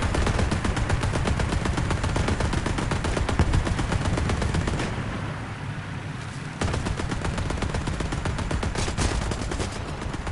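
Tank gunfire in the armored combat game War Thunder, a steady run of loud, rapid repeated shots with heavy low rumble, briefly easing and thinning mid-clip before the firing resumes at full strength.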